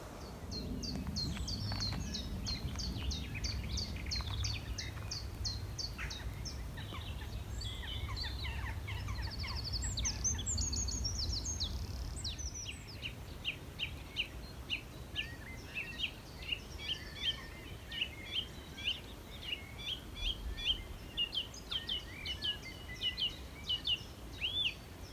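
Nightingales singing at the Knepp rewilding project in May, repeated bursts of rich whistles and rapid trills at moderate distance, at first over a low rumbling background and later in a quieter outdoor setting.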